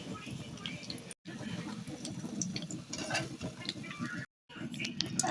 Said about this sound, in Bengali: এভাবে আমি সবগুলো ভেজে নেব।